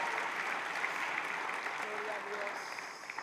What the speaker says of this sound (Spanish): Aplausos a Cristo.